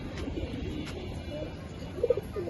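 A female Kaldom pigeon with double-spectacled eyes gives a soft, brief coo near the end over quiet background hiss, with a low murmur of room noise throughout.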